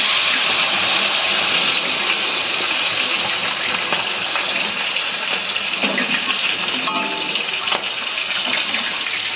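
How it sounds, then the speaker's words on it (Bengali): Water pours steadily into cooked, fried spice paste in a pan while making a Bengali fish curry with raw banana and potato, giving a loud, continuous rushing gush close by with no voices. "এবার আমি জল দিয়ে দেবো।"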